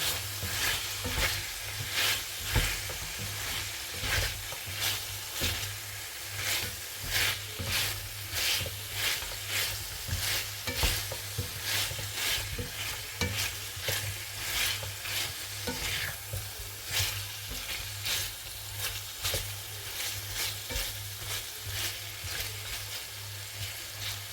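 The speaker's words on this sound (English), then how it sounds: "just gonna add some oil and fry these pork ribs" Pork ribs fry in hot oil for a braised rib dish, giving a steady close sizzle with constant crackle and frequent scraping stirs throughout, with no talking.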